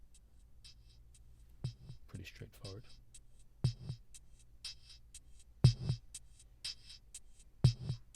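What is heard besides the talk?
Eurorack percussion patch: bass drum, tambourine, hi-hat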